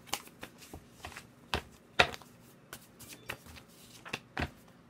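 Tarot cards being shuffled close by, a quiet run of soft riffles and sharp slaps in an uneven rhythm, heard alone.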